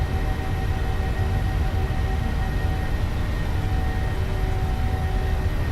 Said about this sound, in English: Toga. Takeoff power set.